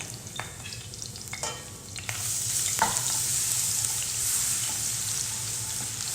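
Grated garlic fries in oil already used for frying salmon, giving a close, steady sizzle that rises louder partway through, with a few clinks and stirring scrapes.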